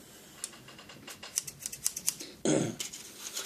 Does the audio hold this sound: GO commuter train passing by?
no